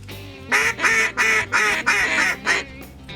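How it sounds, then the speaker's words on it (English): A mallard duck call blown in a run of about six loud, rhythmic quacks, each a short nasal burst with brief gaps between, close up and with no talking over it. "I remember when I got my first duck call too."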